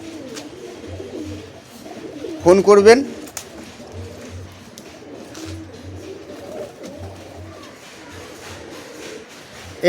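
Male Madras pigeon in a loft at feeding time, giving low, rhythmic coos in repeated short bursts across the stretch, while someone talks loudly in short bursts near the start.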